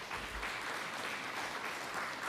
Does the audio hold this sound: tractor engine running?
no